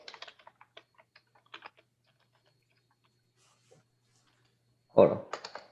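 Fast clicking of typing on a computer keyboard, a run of sharp close taps in the first two seconds, then quiet, followed by a louder burst of sound near the end.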